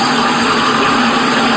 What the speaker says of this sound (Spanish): este es el sonido de un water.